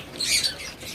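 King quails in a breeding pen give a short, high squawking call that rises and falls within a second, close and fairly loud.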